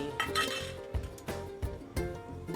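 Jaggery lumps knocked into a metal pot of colostrum for Maharashtrian kharvas, giving a series of sharp metallic clinks and taps at an uneven rhythm, close and fairly quiet, with no talking.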